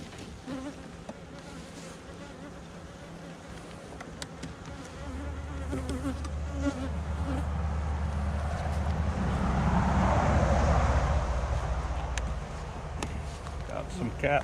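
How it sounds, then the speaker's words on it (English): A hive of honey bees guarding honey and brood fills the air with continuous buzzing, close and steady, with a low rumble building partway through; no voices are heard. "Got a few bees down here."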